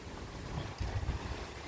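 Strong wind blowing during stormy weather, a steady broadband roar that swells into heavier low gusts partway through, with no voices.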